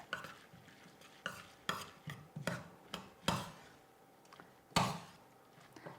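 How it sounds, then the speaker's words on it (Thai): A spoon works sliced culantro into Isan-style bamboo shoot soup, scraping and clinking in about eight uneven strokes with short pauses, moderately close and with no one talking. "ทีนี้ใส่ผักชีฝรั่งซอยลงไปเลย คลุกเคล้าทุกอย่างให้เข้ากันค่ะ"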